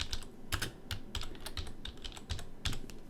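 Someone types a name into a text box on a computer keyboard, a run of quick, close, crisp key clicks in an uneven rhythm with no talking.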